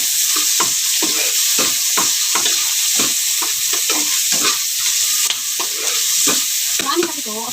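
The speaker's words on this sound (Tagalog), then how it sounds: "Gigisahin natin yung sibuyas, guys." A large batch of onions sautés in a pan for lumpiang shanghai, giving a loud, steady sizzle broken by frequent rhythmic scrapes of a spoon stirring, heard close up with no talking.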